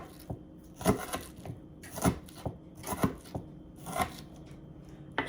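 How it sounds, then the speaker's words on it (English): A knife chops an onion on a cutting board nearby, making a run of crisp, fairly regular thuds, about one strong cut per second with lighter taps in between. "Chop my onion like this"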